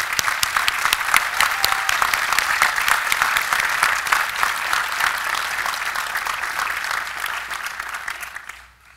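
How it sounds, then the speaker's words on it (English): Sustained, dense applause from a large crowd at Carnegie Mellon University's 118th commencement ceremony, steady and loud for several seconds before quickly dying away at the end. "Let's give him a round of applause to show our appreciation"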